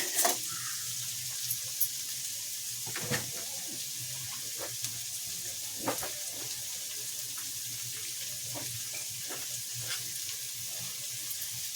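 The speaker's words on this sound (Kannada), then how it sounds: "ಟೊಮೆಟೊ ಜಾಸ್ತಿ ಇರಬೇಕು ಅದು ರೀತಿ ಚೆನ್ನಾಗಿ ಫ್ರೈ ಆಗಬೇಕು" Tomatoes fry in a pan for a fenugreek gojju, a steady soft sizzle throughout with occasional stirring clicks and scrapes, close and moderately quiet, with no talk.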